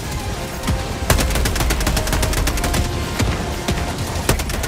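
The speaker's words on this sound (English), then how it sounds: "There's an auto cannon shooting in all in that direction." Autocannon fire in Helldivers 2 during a chaotic extraction: a steady run of loud, heavy shots at a regular pace, overlapping other gunfire and a dense, noisy battle background.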